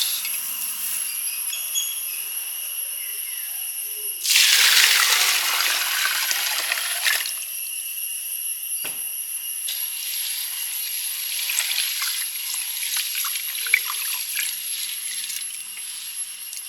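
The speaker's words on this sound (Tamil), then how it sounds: "இதெல்லாம் வந்து 2-3 வாட்டி கழுவிட்டு தண்ணியில் ஊற வச்சிடலாம்" Mixed grains for navadhanya dosa being washed in water, a burst of splashing and sloshing for a few seconds, then quieter trickling and rinsing against a steady background hum.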